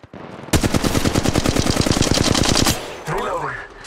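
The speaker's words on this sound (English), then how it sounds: "They're shooting at me." Rapid automatic gunfire from an Apex Legends Mobile ranked match, a loud, dense burst of evenly spaced shots lasting about two seconds before cutting off into quieter game effects.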